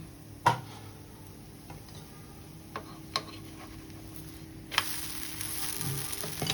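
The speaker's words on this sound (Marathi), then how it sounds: "कमी गॅसवर त्याला हे करून भाजून घ्यायचे" Malpua batter cakes frying and roasting on low gas in a pan, a soft steady sizzle with a few sharp utensil taps, the sizzle swelling louder near the end, close by and without talk.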